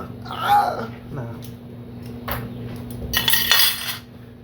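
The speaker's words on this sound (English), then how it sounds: "Got a spoon, plastic, original forks, a knife." A plastic spoon, forks and a knife are handled and clatter against each other in a few quick, close, light clinks and rattles.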